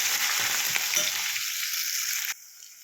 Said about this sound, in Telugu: హాఫ్ స్పూను పసుపు వేసుకొని మంచిగా ఫ్రై చేసుకోవాలి